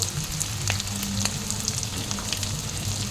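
Boiled potatoes hit hot oil in a pan with spices and set off a loud, dense, continuous sizzle with crackling pops throughout and no talking.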